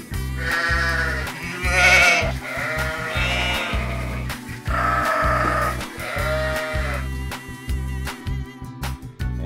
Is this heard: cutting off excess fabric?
no